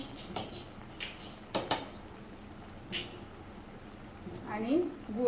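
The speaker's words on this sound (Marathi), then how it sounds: "गुळ आपल्याला किती गोड हवंय त्याप्रमाणे घालायचं आहे आणि आता हे मिक्स करून घेते चांगलं" Soft, sparse clinks and scrapes of a spoon in a pot as sweet green moong is stirred with jaggery, coconut, cardamom, nutmeg and ghee, fairly quiet with a brief murmur near the end.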